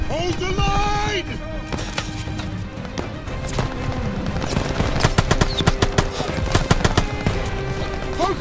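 Sustained light machine gun fire in Call of Duty: Vanguard, rapid dense bursts layered with other gunfire and battle noise, loud and continuous, with shouted voices over the top.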